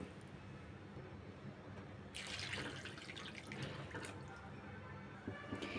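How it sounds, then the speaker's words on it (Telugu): Water is poured from a glass into a pot for making bagara rice, a soft splashing rush that starts abruptly and runs for a couple of seconds before easing into quieter trickles. "ఇప్పుడు మనం 1 కప్పు రైస్ తీసుకుంటే 2 గ్లాసెస్ వాటర్ పోసుకోవాలి అదే గ్లాస్తో."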